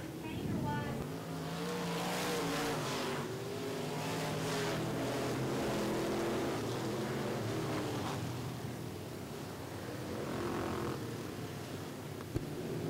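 Super stock race cars at Richmond Raceway running side by side down the back straightaway, engines roaring loud and steady throughout, with a commentator talking over the racing.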